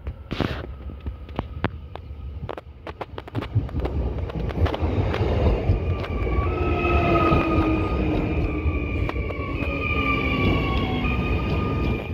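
A train pulls into a Latvian railway station on the Riga–Zemitāni route, opening with rhythmic clacks over rail joints that swell into a loud rolling rumble with squealing brakes and wind buffeting the microphone.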